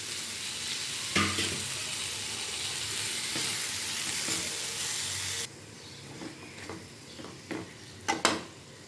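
Two small tomatoes sizzle and fry in a hot pan for a channa masala base, a steady loud hiss that drops partway through, followed by a few sharp scrapes and clinks of a utensil against the pan.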